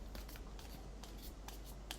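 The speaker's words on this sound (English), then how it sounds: "I'm going to shuffle the cards until I feel complete" A deck of reading cards being shuffled by hand, soft close papery riffles and slides repeating in quick, irregular bursts, quiet and alone.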